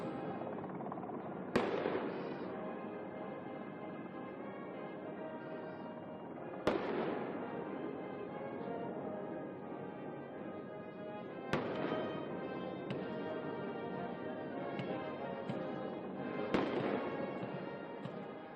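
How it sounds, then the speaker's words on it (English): A 21-gun salute fired at South Africa's State of the Nation Address: single booming reports spaced about five seconds apart, each followed by a long rolling echo over steady outdoor background noise. "a salute flight by the South African Air Force, the national anthem, and a 21-gun salute"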